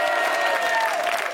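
A live studio audience on a French TV variety show applauds, a dense, steady wash of clapping that fills the whole moment at close range with no pause.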